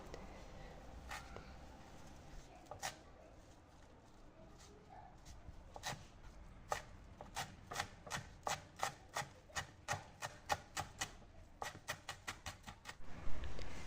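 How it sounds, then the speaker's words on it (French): Fresh parsley chopped with a knife on a board, a series of crisp, evenly paced taps that start sparse and quicken into a steady run, with a dog barking faintly in the background. "Je vais couper du persil frais."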